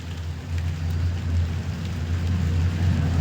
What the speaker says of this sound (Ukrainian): не дає йти, іде і йде дощик